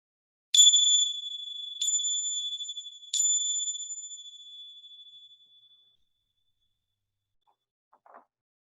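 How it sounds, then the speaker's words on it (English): Three clear chime strikes ring out about a second apart, each holding a bright tone that fades slowly, calling people back together after a break. "you'll hear the ringing of the chimes when it's time to come back."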